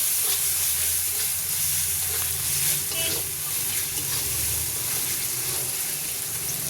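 Chopped onion and ginger-garlic paste fry in a pan, a close, steady sizzle and hiss with low rumbling underneath and faint stirring, continuous for several seconds.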